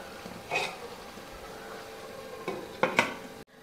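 A lid clatters onto a metal cooking pot of gourd and lentils, a couple of brief clinks and a scrape close by, then a sharper metallic knock near the end in a quiet kitchen.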